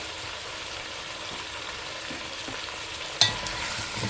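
Meat fries in red palm oil in a pot, a soft, even sizzle held at a low level with one sharp knock of a utensil near the end.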